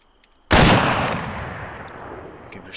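A single loud rifle shot from a .50 cal or .408 weapon in the video game ArmA 3 cracks sharply after a short silence, then its echo rolls away slowly across open terrain.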